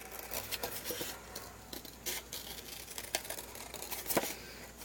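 Sticky scissors cutting a glued paper circle, with soft crunching snips and crinkling paper in irregular bursts, close and fairly faint, without talk.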